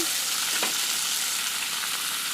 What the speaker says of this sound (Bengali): সাথে দেবো একটু হলুদ গুঁড়ো পটলটাকে এবার ভালো করে একটু ভেজে নেব